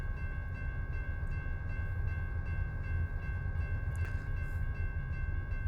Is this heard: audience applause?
no